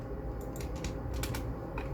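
Typing on a computer keyboard: quiet, quick clusters of key clicks tapping irregularly over a low background hum.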